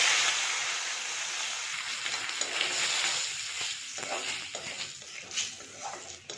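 Cumin seeds, a dried red chili and bay leaves sizzle in hot oil, a bright steady frying hiss that gradually eases, broken by light stirring clicks near the end.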